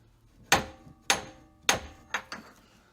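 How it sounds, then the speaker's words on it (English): A short steel pipe section taps a crank seal into place on a Jeep Cherokee engine, five sharp metallic knocks at close range, the first three evenly spaced and the last two quicker. "I did get it started, and I'm basically just tapping now."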